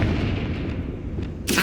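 A Confringo fire spell cast in Hogwarts Legacy, heard as a deep rumbling blast that fills the moment and ends in a sharp bright burst at the close, with no voices.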